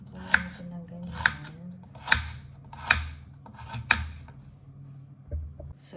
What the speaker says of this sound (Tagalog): Nahiwa ko na po ang carrots.